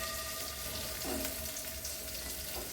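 Stuffed green chilies fry in hot oil for a Maharashtrian drumstick-pod and stuffed-chili dish, giving a steady, even sizzle close by with no talking.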